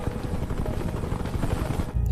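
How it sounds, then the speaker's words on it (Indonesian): An evacuation team's helicopter in a film, a steady close rotor drone with dense low thumping that continues without pause throughout. "ia kembali pergi ke atap untuk menemui helikopter dari tim evakuasi"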